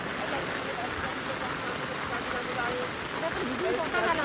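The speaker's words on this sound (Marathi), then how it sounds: "पावसाच्या पाण्याचा आवाज खूप येतोय छत्रीवरती पडल्यामुळे" Monsoon rain drums on an umbrella in a Konkan forest, a loud, continuous close-up patter and rush that runs evenly throughout and swells slightly toward the end.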